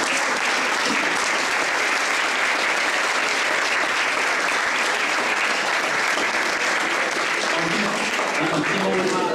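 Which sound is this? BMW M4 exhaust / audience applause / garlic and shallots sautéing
audience applause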